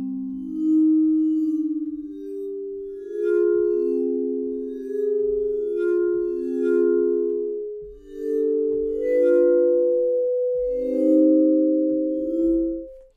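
Orchestral strings from an Orchestral Tools sample library play single bows, a slow line of soft, sustained, overlapping notes that step up gradually and are heard alone.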